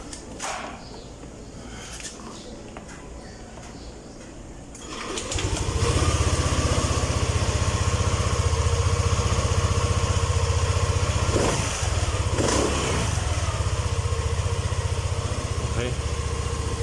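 A Yamaha Aerox scooter engine fires up after a few quiet seconds, then settles into a steady, close, buzzing idle that holds to the end.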